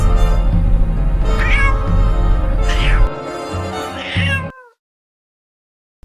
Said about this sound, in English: Yes, my cat.